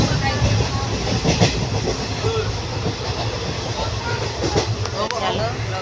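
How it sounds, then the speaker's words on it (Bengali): A passenger train pulls out of the station in Bardhaman district, West Bengal, heard from inside the carriage: a steady rumble of wheels on rails with faint rhythmic clatter, loud and continuous throughout. "ট্রেন ছেড়ে দিয়েছে।"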